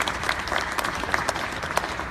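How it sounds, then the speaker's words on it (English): An audience applauds a team, a dense, steady wash of clapping that stays loud and even throughout with a few sharper individual claps standing out. "round of applause to the team"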